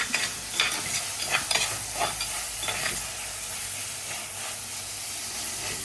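Coriander powder masala sizzles in a pan for a Kerala-style mackerel curry while a spoon scrapes and stirs in several quick strokes, then the frying hiss continues alone.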